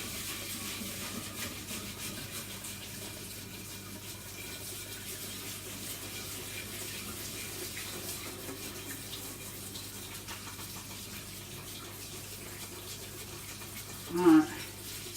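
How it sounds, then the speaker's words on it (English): Plates washed under a running tap, a faint steady stream of water with soft rubbing, and one brief clink near the end. "So I need to just wash out a couple of the plates here a sec."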